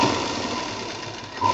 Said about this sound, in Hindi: इसको सीधा डबल सिलाई करते हुए कॉर्नर से